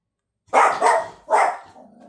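A dog barks indoors, two loud sharp barks in close succession followed by a low trailing growl, with no talking.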